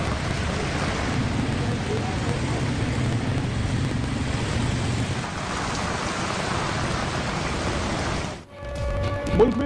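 Heavy rain pours in a dense, steady roar that fills the whole stretch, dipping briefly near the end before faint knocks and rumble return.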